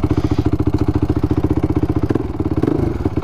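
A 2005 Honda TRX450R ATV with an aftermarket setup runs up close, its single-cylinder engine thumping in a fast even pulse, loud and alone with a brief rev near the end.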